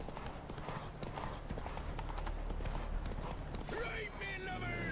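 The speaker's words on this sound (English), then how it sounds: "Ride faster, horsey." Horse hooves gallop in The Witcher 3: Wild Hunt, a fast steady clip-clop rhythm under game music, with a voice talking over it.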